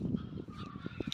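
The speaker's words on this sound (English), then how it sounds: "I can hear some geese." Geese honk faintly in marshland beside a path in Gunners Park, a few short calls under footsteps and light outdoor noise.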